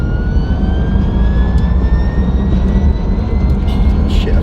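Turbocharged car engine droning loud and steady at a street drifting event in Arab streets, a rising turbo spool whine climbing over the constant roar for several seconds with faint crowd noise behind.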